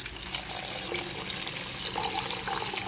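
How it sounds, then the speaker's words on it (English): Water pours and splashes steadily into a vessel of turmeric and pepper spices for rasam, a continuous close liquid rush with no talking. "So we shall add little water into this and we shall mix it."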